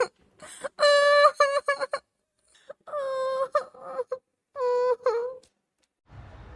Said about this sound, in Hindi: उन्हें मीरा के रोने की आवाज आई